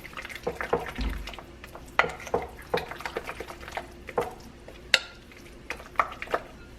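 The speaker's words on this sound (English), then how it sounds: "We're going to mix this up and set it to the side" A spoon stirs ground pepper into a ricotta pasta sauce in a bowl, giving irregular scraping clinks and soft taps against the dish, close and moderately loud, with no talking.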